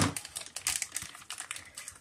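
A container of modelling paste is pried open, producing a quick flurry of small plastic clicks and taps, close and fairly quiet, with no voices.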